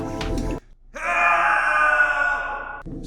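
A voice imitates a pony's screech, letting out a long, loud, sustained shrill wail that holds for about two seconds after a short pause, with other voice sounds just before it and right after.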